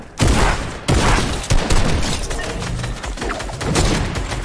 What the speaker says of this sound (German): Weiter geschossen.